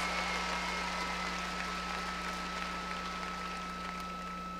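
Commencement audience applauding in a large hall, a steady dense wash of clapping that holds evenly throughout at moderate, distant level with no voices over it.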